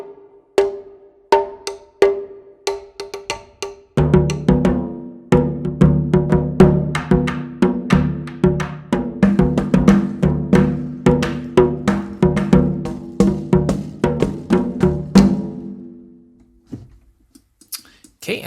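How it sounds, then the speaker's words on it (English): Chinese percussion patch from the Jade ethnic orchestral sample library played as a sequence of sharp struck hits, sparse at first, then a dense rapid rhythmic run of ringing metallic and wooden strikes, close and loud, trailing off near the end. "I just pulled up the general orchestral percussion patch here, or Chinese percussion patch, and it sounds like this"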